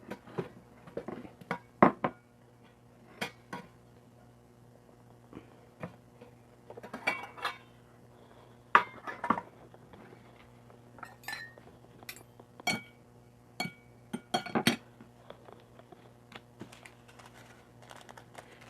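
Plates and dishes clink and clatter in scattered sharp knocks during preparation for a spicy Samyang noodle mukbang, close and fairly loud over a steady low hum, with no talking.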